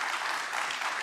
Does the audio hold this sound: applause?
yes